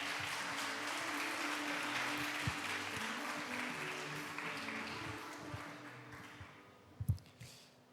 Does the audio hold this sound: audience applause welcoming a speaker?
yes